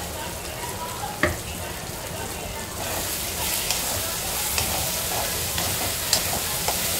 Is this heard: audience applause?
no